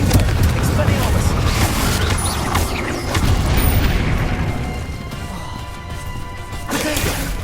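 Blast spells crash and boom in the Hogwarts Legacy video game amid combat, with repeated loud smashing impacts and rumbling explosions layered over a constant dense battle din.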